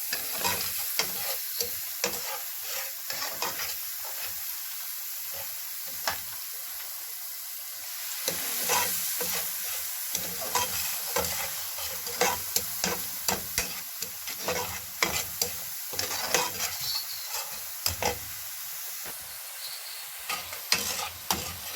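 Tomato paste frying in a pan for a spaghetti dish with green beans, a soft continuous sizzle broken by repeated scraping stirs, close and fairly quiet with no talking.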